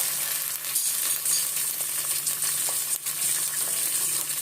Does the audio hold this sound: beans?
yes